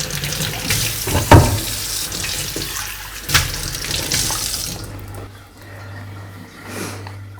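Rajma (kidney beans) being rinsed under a running kitchen tap, with a steady rush of water into the sink, a few louder splashes, and the flow easing partway through.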